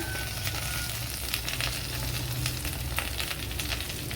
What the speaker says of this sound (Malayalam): ഇനി ഇതിലേക്ക് നമ്മൾ കട്ട് ചെയ്ത് വെച്ചിരിക്കുന്ന സവാള ചേർത്ത് കൊടുക്കുക.